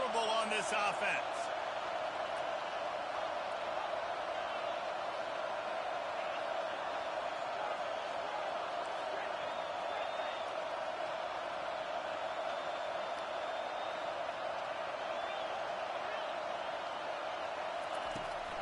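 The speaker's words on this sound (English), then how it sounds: "this crowd is making it miserable on this offense" A football stadium crowd roars in a steady, loud wash of noise against the offense on a fourth down, with a play-by-play announcer talking over it.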